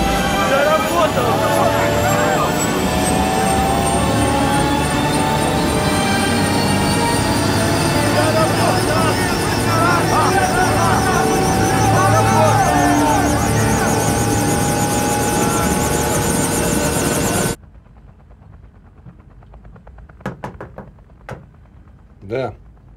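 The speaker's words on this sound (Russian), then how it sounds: "Владимир Григорьевич, починили вертушку." A repaired helicopter engine runs loud and steady with a dense whine and rotor roar for about seventeen seconds, then cuts off abruptly, leaving a few faint knocks and clatters.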